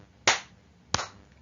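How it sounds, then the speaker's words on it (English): Children give two quick, sharp claps, spaced well apart, close and crisp against a quiet room. "Give yourself 3 claps"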